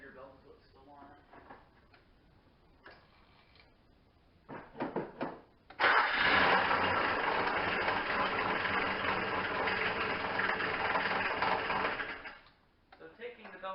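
A 1997 Nissan Pathfinder with 208,463 miles and most belts removed starts up after some handling noises, then runs steadily and fairly loud for several seconds before shutting off, with talk around it.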